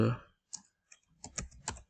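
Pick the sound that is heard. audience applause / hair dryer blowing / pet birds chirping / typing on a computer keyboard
typing on a computer keyboard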